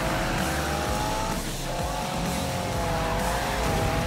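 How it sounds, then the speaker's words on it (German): A car drifts in the Need for Speed video game, giving a loud, continuous engine roar with sustained tire squeal and skidding throughout, briefly easing off midway before building again. "Jetzt nicht hier Sandwich, ich will driften!"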